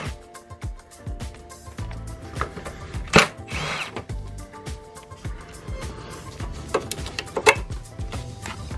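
Power tool with socket removing bolts from a Subaru Crosstrek underside, around the e-brake cable bracket and under tray, in short bursts of whirring and rattling with metallic clanks between them.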